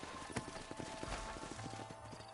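Horse hooves in Red Dead Redemption clip-clop steadily at close range, with a brief whinny and low background rumble, no talking.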